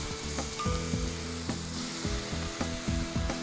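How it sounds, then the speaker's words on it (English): Prawns stir-fried with curry paste in a hot pan for a Thai krachai dish, giving a steady close sizzle broken by repeated scraping and knocking of the utensil against the pan in an uneven rhythm. "Stir fry them together."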